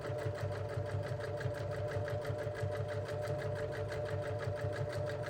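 Sewing machine top-stitching a fabric bag at a lengthened stitch, a steady, fast mechanical whirring and needle ticking that runs continuously and close without a pause.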